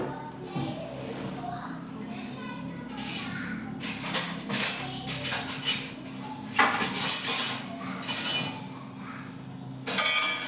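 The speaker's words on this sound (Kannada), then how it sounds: "ಓಪನ್ ಮಾಡ್ತಾ ಇದ್ದೀನಿ ಕುಕ್ಕರು ಮಸೊಪ್ಪಿಂದು." A pressure cooker being opened after three whistles, with a clatter of metal lid and pot knocks and clinks in uneven bursts, loud and close, with a voice faintly underneath.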